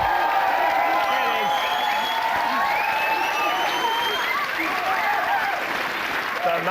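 Studio audience at a television show applauding steadily and loudly for an arriving guest, with scattered cheers and whoops over the sustained clapping.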